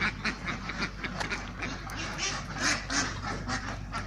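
A flock of CP and Khaki Campbell laying ducks quacks continuously at close range in a farm pen, many calls overlapping in a busy chorus, with faint talk in the background.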